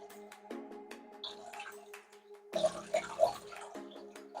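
Water runs from a valve on a shrimp pond tank in gurgling, uneven spurts, with a louder rushing burst partway through. The sound is close and moderately quiet, and there is no talk.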